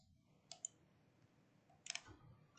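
A few crisp computer mouse clicks sound close and sharp against near silence, two quick ones early and another cluster near the end, during image editing work.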